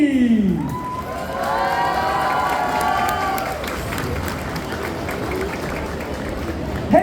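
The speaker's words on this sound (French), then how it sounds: "Je vous demande un tonnerre d'applaudissements pour notre spécialiste du cosplay" Audience applause and cheering with whoops at the finale of a cosplay contest at a geek convention in Le Mans, sustained and loud, with a host's voice briefly over the start.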